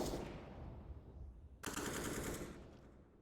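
Counter-Strike gunfire on Dust2 in a competitive match: a rapid burst of automatic shots, a short pause, then a second louder burst that trails off, all fairly faint.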